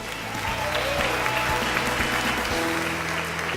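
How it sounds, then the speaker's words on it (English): Audience at an awards dinner gives a full round of applause as a presenter comes up, steady dense clapping from a large room over a low musical backing. "Ladies and gentlemen, round of applause"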